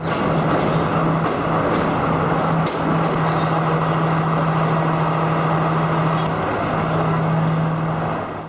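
A train rumbles loudly and continuously at a crowded railway station in Kandy, Sri Lanka, a dense mechanical roar with a steady low hum and scattered clanks, without speech.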